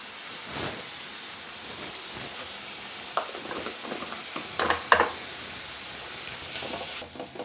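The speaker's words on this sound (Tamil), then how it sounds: "வெங்காயம் நல்லா வதங்கிடுச்சுங்க" Onions sautéing in a pan for a Pongal feast meal, heard as a low, even sizzle with scattered soft clicks and scraping stirs, with no talking.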